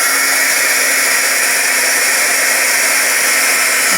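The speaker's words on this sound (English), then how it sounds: "So let's get the heat gun out." A heat gun blows steadily over a junk journaling page, a loud, continuous airy whoosh with a faint motor whine, close and unbroken, no talking.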